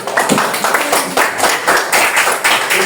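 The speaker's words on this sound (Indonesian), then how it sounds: "ya, itu tepuk tangan dulu" A classroom of children clap together, a dense burst of many small hands at close range, steady and loud, with a few voices mixed in.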